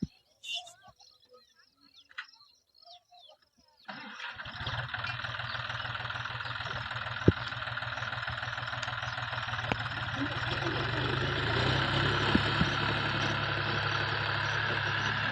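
A farm tractor engine starts up partway through and idles steadily, a loud, close, continuous rumble with faint clicks over it. The opening seconds are quiet, with a few soft knocks.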